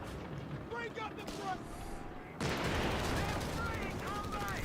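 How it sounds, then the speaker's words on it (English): Anti-tank gun firing during a Company of Heroes 3 tournament match, a sharp blast that swells into dense battle noise with rattling gunfire, set under continuous excited commentary. "Stewart will get the AT gun shot in."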